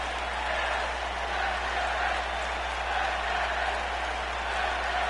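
Wrestling arena crowd at an NDW show keeps up a steady, broad roar of cheering and chanting, far off and continuous with no clear individual voices.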